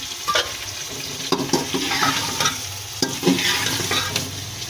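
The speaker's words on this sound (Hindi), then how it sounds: "और अच्छी तरह से हम इसको फ्राई करेंगे" Chicken with ginger-garlic paste sizzles steadily in a hot pan while a spoon scrapes and stirs it at intervals, close up and fairly loud.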